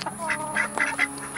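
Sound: ducks quacking

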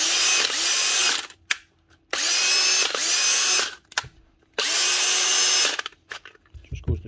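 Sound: cordless drill running

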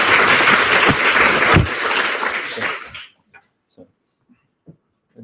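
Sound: audience applause

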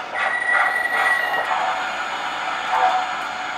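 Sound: O gauge model train running

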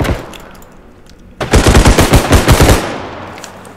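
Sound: gun hip fire in video game Bodycam

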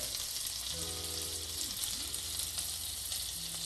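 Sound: baguette frying in caramelized butter

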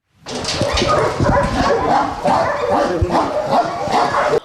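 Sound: dogs barking at animal shelter

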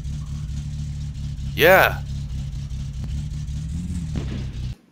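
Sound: car engine revving in the video game My Summer Car

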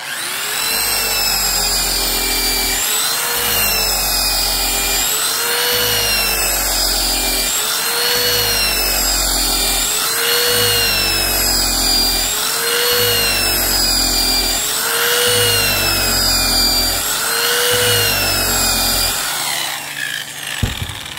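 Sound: power tool with 420 grit fabric wheel brushing aluminum

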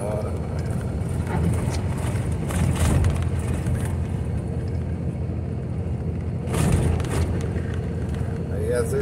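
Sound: truck loaded with firewood driving downhill

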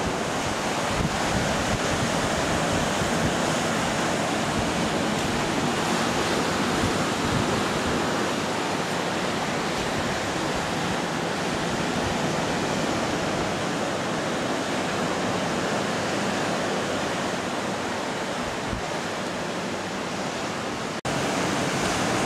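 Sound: Caribbean sea waves breaking at Punta Cancún, Mexico

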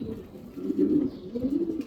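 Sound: racing pigeon cooing in the loft

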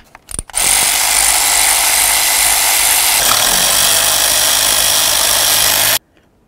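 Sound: removing valve cover mounting bolts on a Ford Expedition

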